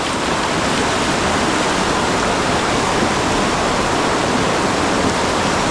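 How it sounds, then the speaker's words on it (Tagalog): Water roars out of a dam opening in a constant, heavy, close rush, like a waterfall, with no pause or break throughout. "ang dami pong tubig na lumalabas oh"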